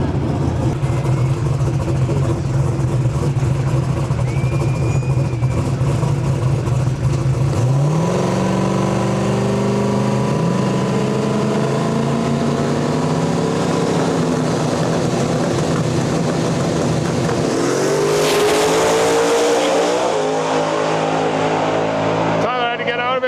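Drag race cars in the X275 class making Friday-night qualifying passes at Rocky Mountain Nationals in Western Canada: loud engines rise and sweep through revving launches, with a second car roaring past near the end, while a voice talks over them.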